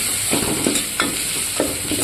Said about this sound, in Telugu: ఇప్పుడు కలబెట్టుకోవాలి.